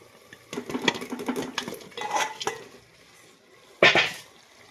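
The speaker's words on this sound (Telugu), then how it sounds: "కలిపేసి ఒకసారి తిప్పుకుందాం." Drained pieces tumbled into a curry and stirred with a spoon, giving a few clattering scrapes and stirs against the pot, then a louder sharp knock near the end; no talking.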